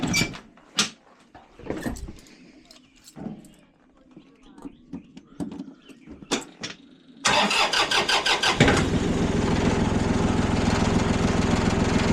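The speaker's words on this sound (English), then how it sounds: "now I'm going to be using the loader" Scattered clunks and knocks lead into a farm loader's diesel engine cranking and catching, then settling into a loud, steady idle close by.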